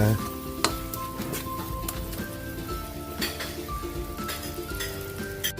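Miso sizzles and fries in a hot pan while being stirred for sinigang with carp, a steady crackling hiss with occasional utensil clinks against the metal, loud and close throughout.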